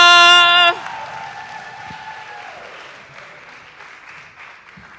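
Applause from an audience at a poetry event, a steady broadband patter that follows a sharp tonal chord cutting off in the first second and then fades gradually to a softer, thinner clatter.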